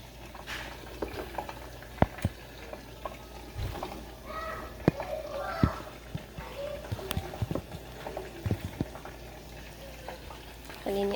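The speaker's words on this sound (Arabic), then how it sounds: "هسه الزيت حار عندي راح اقلي" Falafel fries in hot oil, giving a soft continuous bubbling sizzle with scattered pops and crackles. It stays fairly quiet and steady throughout.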